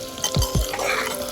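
Onion and sukuti, dried meat, fry and sizzle in a pan for Nepali-style sukuti with pumpkin, with two quick close stirring scrapes over a steady sizzle.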